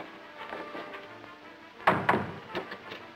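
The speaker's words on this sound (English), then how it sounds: "Close the door and bolt it." An old wooden door in a 1941 Western film is shut and bolted. Faint scuffing is followed by a sharp thump and a couple of clunking knocks as the bolt is set, with no voices.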